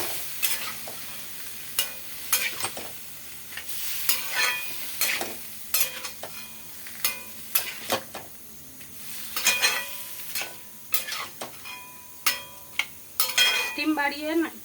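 Vegetables with slit green chillies stirred in a pan over a gas flame, a utensil scraping and clinking against metal in irregular bursts over a steady low sizzle, close and moderately loud with no talk.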